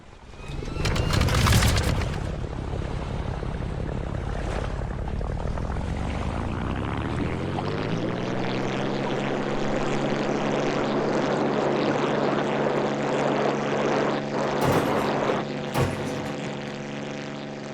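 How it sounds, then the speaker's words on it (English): A propeller plane in The Brew Barons starts up with a loud burst, then its engine spools up into a steady, rising harmonic drone as the throttle opens, continuing without talk. "Let's start up the plane, throttle up,"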